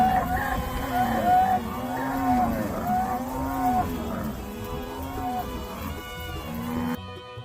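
Cows moo repeatedly in long, drawn-out calls, several animals overlapping at close range over a steady rural background, with a voice speaking between calls.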